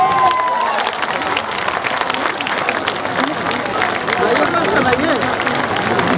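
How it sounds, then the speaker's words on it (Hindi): Crowd at a Jan Suraaj party political event in Bihar claps loudly and continuously, mixed with cheering and crowd babble, with a voice audible over the din. "जोरदार ताली बजाइए।"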